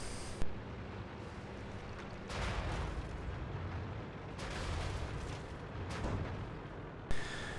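Autocannon fire from a Luchs in a tank video game on an airfield map: several loud, booming bursts spaced a couple of seconds apart over a continuous dull rumble.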